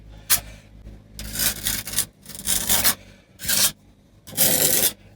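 Concrete repair mortar is pressed and worked into a hole in a drain gully with a trowel, heard as five rough scraping and rubbing strokes separated by short pauses, loud and close with no voices.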